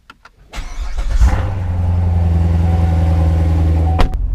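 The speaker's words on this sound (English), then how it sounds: "I'm just driving home" A car engine cranks and catches after a few soft clicks, then settles into a loud, steady low drone with a faint whine on top, ending with a sharp knock.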